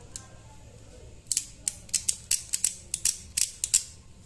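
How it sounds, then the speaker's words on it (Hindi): A Takara Tomy Z Achilles Beyblade gives a quick series of sharp, crisp clicks as it is assembled, about a dozen close ticks in an uneven rhythm with no talking. "आप पहले एक बार क्लिक सुन लो इसके गाइस, रुको मैं इसके क्लिक्स आपको सुना देता हूँ।"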